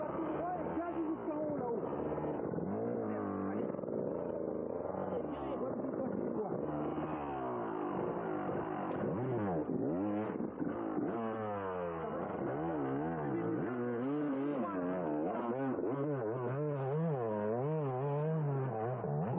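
Enduro motorcycles, including a 125cc bike, race in the 1999 GLC enduro, their engines droning and revving steadily with rising and falling pitch throughout, close and continuous.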